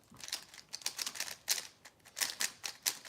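Rapid, uneven keystrokes clatter on a computer keyboard in bursts of crisp clicks, close and moderately loud, with no voices present.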